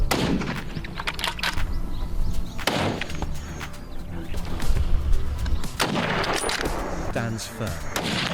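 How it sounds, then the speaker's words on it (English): Rifle shots during a wild hog hunt on a hillside, several loud cracks and booms in quick succession with rumbling echoes, some close and some farther off. "More shots followed in quick succession"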